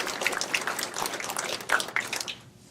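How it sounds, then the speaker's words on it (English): A brief round of audience applause at a 2018 welcome ceremony for a memorial, a steady patter of many hands clapping at moderate volume for under three seconds before fading. "I just want to give you a round of applause as well"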